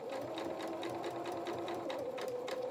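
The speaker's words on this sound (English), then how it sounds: "We're going to sew off this neck edge now. But reverse stitch because we need to have that reinforced." A sewing machine runs steadily, stitching and reverse-stitching the neck edge of a fabric otter toy head: a continuous close mechanical whir with a fast, even needle rhythm.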